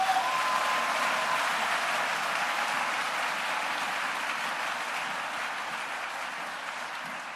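Church congregation clapping in praise to the Lord, a dense, steady wash of applause from many hands filling the room, slowly tapering.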